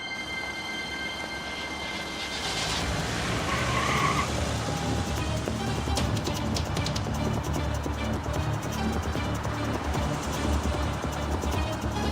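A car speeds along in a pursuit, its engine and road roar steady and loud throughout, with a tire skid or squeal rising early on amid dense traffic-like noise.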